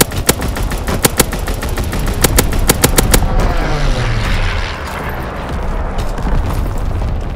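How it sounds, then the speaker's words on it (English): A fighter pilot's strafing run in Call of Duty: WWII on the Shipment 1944 map in domination mode. Rapid bursts of heavy machine-gun fire crack loudly for about three seconds, then fade into a rumbling explosive roar. "Fighter pilot inbound. Strafing the target."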